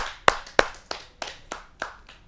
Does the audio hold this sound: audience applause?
yes